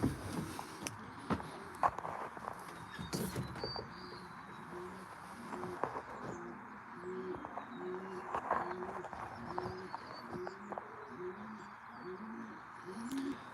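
Loft pigeons from an old bird racing team coo in repeated low rhythmic phrases close by, with faint wingbeats and scattered footsteps and clatter around the loft as the birds fly outdoors.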